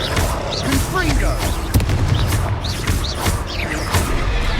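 Confringo fire blast spells bursting repeatedly in Hogwarts Legacy combat, a run of sharp booming explosions with crackling tails, loud and close, over game music and effects.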